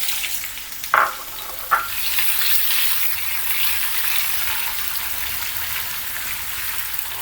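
Shallots dropped into hot oil with popping mustard seeds for a pumpkin erissery raise a steady, close crackling sizzle, with two sharp splattering bursts early on before it settles into an even fry.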